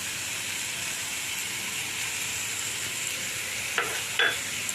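Pumpkin with turmeric and salt sizzling in a pan, a constant loud frying hiss with two brief scraping stirs near the end and no talking.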